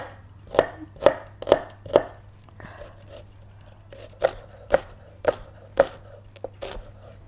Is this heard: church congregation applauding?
no